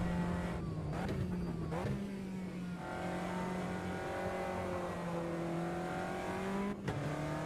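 A Caterham's engine in Automobilista 2 at Brands Hatch, a steady high-pitched drone with brief dips as it shifts down to third and picks back up, loud and continuous, no talk.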